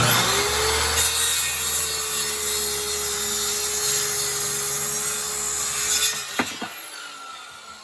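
A circular saw makes a bevel cut through wood, its loud steady whine running for about six seconds before the blade winds down and a few knocks follow at close range.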